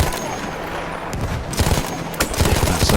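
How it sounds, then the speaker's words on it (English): Machine gun fire from a nest on top of a bunker in the World War I shooter Battlefield 1, with dense overlapping bursts of shots and booms growing heavier toward the end, amid a noisy battle backdrop. "That's that machine gun nest on top of that bunker that's causing the most problems"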